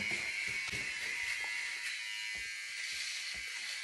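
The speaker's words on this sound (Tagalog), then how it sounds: "Nag-shave siya." An electric shaver buzzes steadily close by, a loud, continuous whine, with faint scraping and clicks as it moves over skin and no talking.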